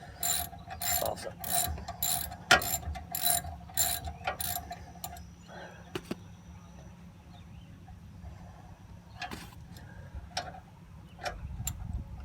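Bolts being loosened and pulled out during a DIY brake job, a run of quick ratchet clicks in bursts, then sparse metallic ticks and clinks close by, with quieter gaps between.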